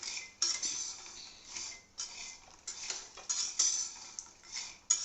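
A spoon mixes cashews with red chili powder and rock salt in a metal bowl, making light, close clinks and scrapes in quick irregular bursts, with no talking.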